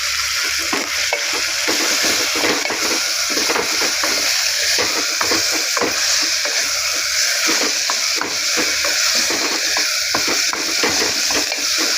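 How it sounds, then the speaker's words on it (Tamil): Steady sizzling as ginger and garlic sauté in a hot pan, with a spatula stirring and scraping rhythmically throughout, loud and close. "கொஞ்சம் இஞ்சி பூண்டு வச்சு சேர்த்துக்கிட்டு நல்லா வதக்கிடுவோம்"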